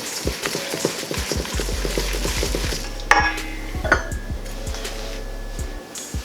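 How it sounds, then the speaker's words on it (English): A whisk beats flour into mild sauce in a pot, making rapid, rhythmic clicking and scraping against the metal. It is close and steady, with a few louder knocks near the end. "Whisk that up."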